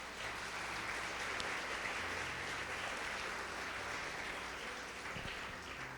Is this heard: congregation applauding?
yes